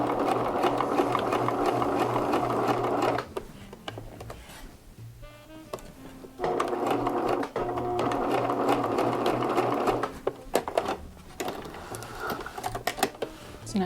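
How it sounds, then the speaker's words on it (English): A sewing machine bastes an invisible zipper onto a velvet pillow cover. It makes a close, steady whirring stitch that runs in long stretches, stops in the middle, then starts again, with quiet handling noises during the gaps. "I typically will just do the basting step."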